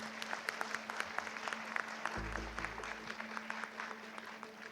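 Scattered audience clapping at a Hindi journalism talk event, a thin, uneven patter of hands with distinct individual claps, fairly faint, with a low thump partway through.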